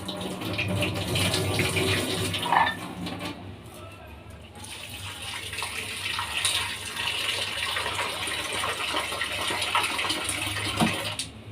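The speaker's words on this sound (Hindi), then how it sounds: "तो ये मैं थोड़े से भिगो दूँ जब तक, मैं धो दूँ थोड़े से इनको" Clothes soak and get washed by hand in water, with continuous splashing and running-water sounds at close range, briefly quieter midway, and someone talking over part of it.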